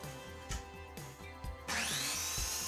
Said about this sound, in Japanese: これは丸ノコでカットしていくんですが